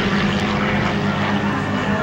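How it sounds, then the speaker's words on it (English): P-40 Warhawk with an Allison engine and Hamilton Standard propeller flies at an airshow, a loud, close, steady propeller drone with a strong low engine hum throughout. "hanging on that beautiful Hamilton Center prop out from the Allison engine, pulling that airplane through the sky."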